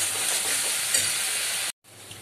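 Egg korma base with salt frying in a pan and being stirred: a loud, dense hiss of sizzling oil with light scraping, steady throughout before cutting off abruptly near the end.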